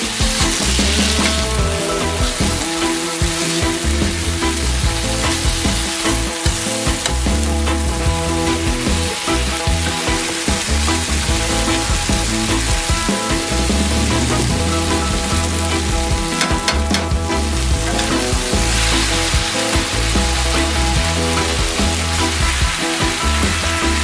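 Jerk-marinated shrimp coated with cornstarch frying in a hot pan, a loud, constant sizzle and crackle with occasional scraping and shifting as pieces are flipped.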